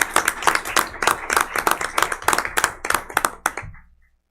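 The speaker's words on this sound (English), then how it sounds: "Let's clap for that." A small audience at a school district governing board meeting claps in a loose, distinct rhythm, individual hand claps clearly separable, close and bright, then stopping abruptly into silence.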